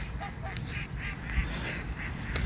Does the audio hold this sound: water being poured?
no